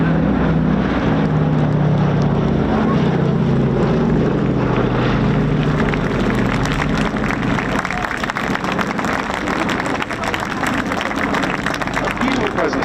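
A Boeing B-17G Flying Fortress makes a final low pass at an airshow with smoke on, its four piston engines giving a loud, continuous droning roar that swells and shifts over several seconds, with crowd noise and a voice faintly underneath.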